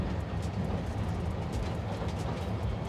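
Train ride in the Spider-Man Miles Morales video game, a steady broadband rumble and rolling noise with faint rhythmic clicks, continuous and even throughout.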